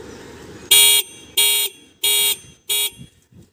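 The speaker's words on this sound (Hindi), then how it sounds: "ये देखिए ये हॉर्न का बटन है, इसको मैं ऐसा दबा के रखना है" Homemade musical horn blares in four loud, held tones while its button is pressed, each bright buzzy blast lasting about a quarter to a third of a second, separated by short gaps over faint background noise.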